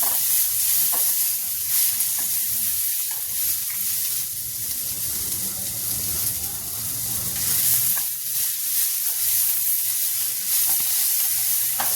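Diced potatoes frying with onions in a pan, giving a steady loud sizzle and hiss with occasional stirring scrapes, alone and close.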